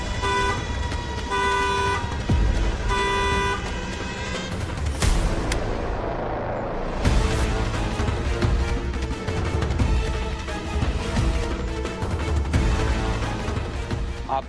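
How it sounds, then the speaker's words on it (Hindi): Car horns honk loudly in traffic, several short repeated toots in a row at first, then more scattered blasts over a rumbling road background. "क्या पीपी कर रहे हो? चलो आगे लो गाड़ी।"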